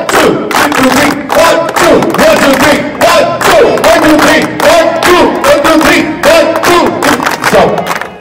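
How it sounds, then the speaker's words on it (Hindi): A crowd at a Radio Mirchi lucky draw prize event claps and cheers for NABARD, with dense, rhythmic hand-clapping and shouts sustained loudly throughout. "नाबार्ड के लिए ताली बजा दो"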